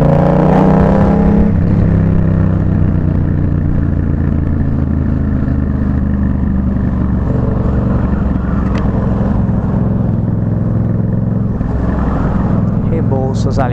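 Yamaha MT-07 motorcycle heard from a helmet camera while riding, its steady engine drone and low rumble continuous throughout with wind noise, a rider's voice talking over it.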